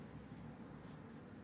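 A pen scratches across paper at a study desk, a faint, soft, continuous scratching over low room hum, with a few brief higher strokes.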